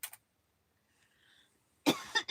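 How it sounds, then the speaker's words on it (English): A person coughs: a short burst at the start, then a louder cluster of two or three harsh coughs near the end, close by in an otherwise quiet room. "I've had this cough off and on since October."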